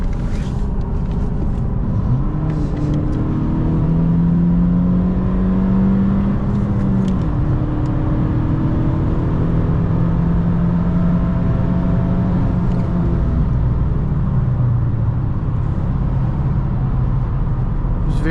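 A 2018 Honda Civic Si with a six-speed manual accelerates at highway speed, its engine note rising in a steady loud drone over road and wind noise, without any talking.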